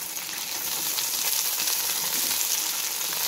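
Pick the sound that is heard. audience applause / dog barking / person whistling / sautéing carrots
sautéing carrots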